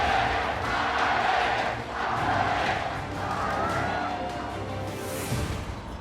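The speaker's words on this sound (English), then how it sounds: "and the crowd welcomes them." Large esports arena crowd at the 2017 League of Legends World Championship in China roars and cheers as Royal Never Give Up takes the stage, a sustained swelling wash of voices with a brief surge near the end.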